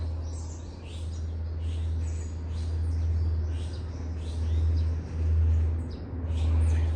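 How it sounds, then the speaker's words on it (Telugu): Many birds chirp and call high in the trees on an evening walk in the hills of Korea, a busy chorus over a steady low hum. "చూడండి పక్షులు ఎంత బాగా అరుస్తున్నాయో"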